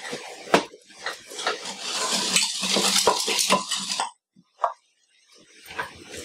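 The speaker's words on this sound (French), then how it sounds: "Il faut bien penser à remuer le chocolat pour éviter que ça brûle" A utensil scrapes and clinks against a pan while melting chocolate is stirred, a busy run of scraping for about four seconds, then a brief pause and a couple of isolated taps, all close and fairly loud.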